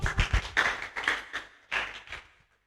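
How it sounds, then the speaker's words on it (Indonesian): A classroom group claps in a rhythmic pattern, bursts of sharp hand claps in a few short phrases close by, fading out at the end. "Oke, tepuk tangan dulu."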